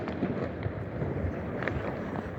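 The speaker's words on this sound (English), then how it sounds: "The fireworks been carrying on quite a long time, probably longer than last year." New Year's Eve fireworks pop and rumble at a distance over a river in Szczecin, Poland, a muffled series of irregular bursts under a dull background hum.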